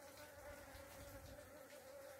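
Bees buzzing around pink and yellow pitaya flowers inside a small greenhouse, a faint, steady drone of many insects with no talk.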